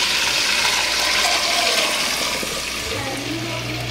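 Water poured into a pot holding onion soup mix and beef bouillon during home meal prep, a steady rushing splash that runs unbroken for about four seconds, close and fairly loud.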